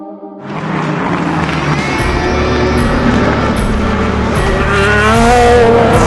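Endurance race cars at Monza roar loudly at close range, a continuous layered engine howl with rising and falling pitch as several cars pass in succession, no voices over it.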